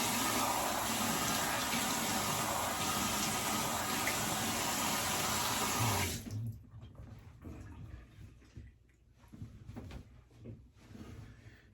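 Tap water runs steadily over an alum block during a straight razor shave, a close, continuous rush that cuts off about halfway, leaving quieter handling sounds and faint drips.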